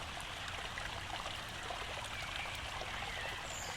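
Slow brown river water bordered by willow trees flows in a steady, soft trickling wash with faint babbling detail, continuous and even, with no voices.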